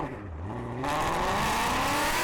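A BMW M4 CS and a Shelby Mustang GT350 launch side by side in a drag race, engines going from a low idle rumble to a sudden loud full-throttle roar that holds steady and close, with rising revs.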